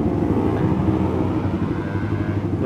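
A Kawasaki ZX-25R sport motorcycle engine revs loudly and steadily close by, a deep continuous growl with no pauses.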